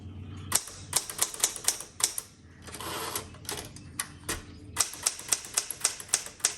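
A repainted red 1967 Classic 12 typewriter being typed on up close: sharp, crisp keystrikes arrive in quick rhythmic bursts, with a brief pause around the middle before another steady run of clacks.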